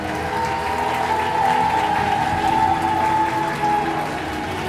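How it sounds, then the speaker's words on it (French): Audience at a French witches' ball event applauding the teachers, steady dense clapping throughout at moderate distance, with a faint tonal hum running underneath. "Je vous laisse applaudir à nouveau tous les professeurs."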